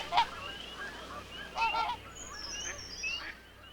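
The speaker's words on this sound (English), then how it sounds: "such as these Canada geese" Canada geese honk in the open, several nasal calls spaced irregularly over a few seconds, moderately near against faint background noise.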